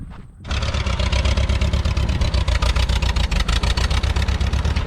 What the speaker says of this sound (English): Sounds like we got a car coming